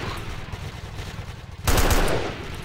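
A sniper rifle fires in a video game: a sudden loud, sharp blast cuts through a steady low background rumble and rings out briefly.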